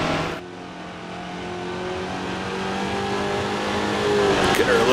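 A vintage race car in Grand Prix Legends accelerates on the Dundrod road circuit, its engine note climbing steadily and loud while the driver shifts up through the gears, with a voice talking over the roar.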